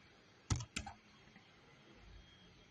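Two quick clicks of a computer keyboard, close and crisp, followed by quiet background hum.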